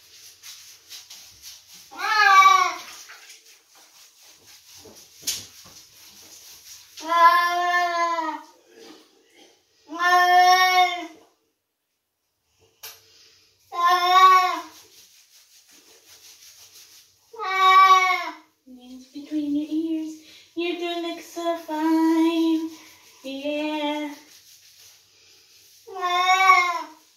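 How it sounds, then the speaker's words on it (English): A cat meows repeatedly and loudly up close, drawn-out wailing calls spaced a few seconds apart, with a few shorter, lower mews toward the end. "darn cat."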